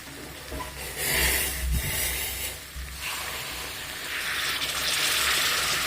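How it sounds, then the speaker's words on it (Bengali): Hot water poured into a pan of minced meat and potato curry. It gives a hissing, sizzling rush with a couple of louder splashes early on, close and steady. "এবার দিয়ে দেবো গরম জল"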